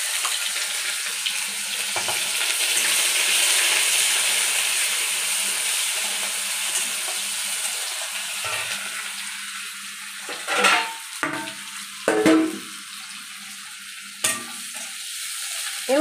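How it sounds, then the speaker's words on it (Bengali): Onions frying to a crisp in a pan for a chicken paste dish, a broad steady sizzle with occasional stirring clanks and a brief running-tap splash near the end, close, no voices. "পেঁয়াজটা কিন্তু খুব কড়কড়ে করে ভাজতে হবে।"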